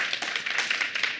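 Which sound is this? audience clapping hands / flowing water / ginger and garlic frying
audience clapping hands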